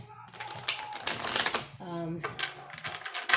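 Tarot cards being shuffled and handled up close, a quick papery riffle and flutter of the deck in short bursts, with someone talking over part of it.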